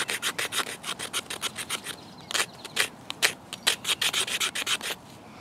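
A Leatherman Wave multi-tool blade shaves fine wood curls and tinder, giving a close series of quick dry scraping strokes in an uneven rhythm, with no voices.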